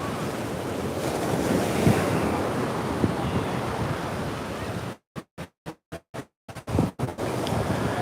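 Low-tide surf washes steadily onto Coney Island beach at sunset under heavy wind rumble on the microphone, broken midway by a series of brief dropouts before the roar returns.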